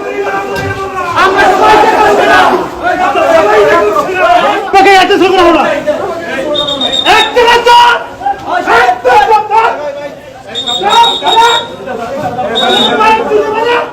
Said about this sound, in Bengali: সেখানে প্রকাশ্যে ঠিক এভাবেই স্লোগান দেন আওয়ামী লীগ নেতাকর্মীরা